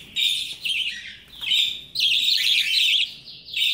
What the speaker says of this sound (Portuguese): E também tem os periquitinhos australianos.